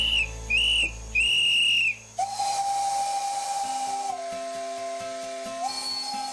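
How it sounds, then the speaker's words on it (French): A steam locomotive whistle gives three short shrill blasts, followed by a long hiss of escaping steam and a lower, sustained whistle tone nearby, in the Ardèche, France. "Coup de sifflet, panache de fumée et effluve de charbon nous plongent immédiatement dans un autre siècle."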